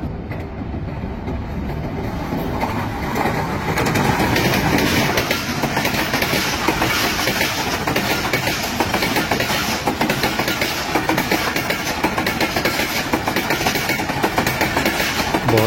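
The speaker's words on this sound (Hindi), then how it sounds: "बहुत ही शानदार एंट्री रावलपिंडी में हज़ारा एक्सप्रेस 11 अप की।" The Hazara Express 11 Up pulls into Rawalpindi station, a loud, continuous rumble of the locomotive and rolling wagons, with rhythmic wheel clatter sustained throughout.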